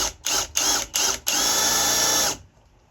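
A hammer drill bores into a wall to mount a solar-powered sensor light. It gives several short loud pulses, then a sustained burst of close, harsh drilling that stops abruptly.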